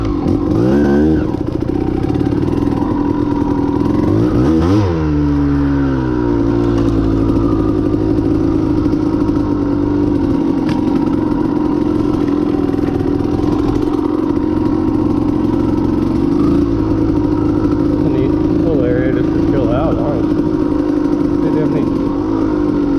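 A 1992 Kawasaki KDX200 two-stroke dirt bike runs close and loud for the whole stretch, its engine droning steadily with a couple of sharp revs and pitch swoops near the start, while a rider talks over it now and then.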